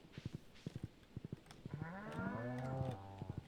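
A cow mooing in the farming video game Stardew Valley, one long drawn-out moo rising then falling, framed by rhythmic clip-clop footstep taps before and after.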